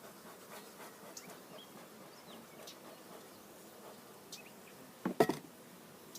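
Honeybees from a captured swarm hum softly in an open hive. The buzzing is faint and close, and a few louder bumps and rustles come near the end.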